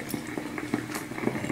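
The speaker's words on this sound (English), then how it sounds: "I'm going to wet my face." Cold water splashed by hand onto a face during skincare washing: quick wet slaps and drips repeat every fraction of a second, close and moderately loud, with no talking.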